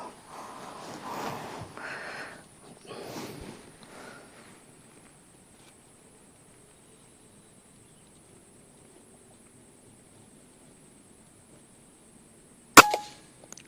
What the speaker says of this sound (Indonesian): Kita tembakan yang ke-5 mudah-mudahan masih masuk ya.